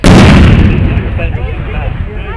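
A loud, deep boom rolls out at the start and decays slowly into a long rumbling tail, a cannon shot heard outdoors at a Civil War re-enactment of the Battle of Shiloh.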